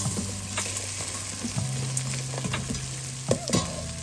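Pork bits sizzling and frying in a hot pan, a steady close crackle with stirring scrapes and a few sharper spatters, no talking.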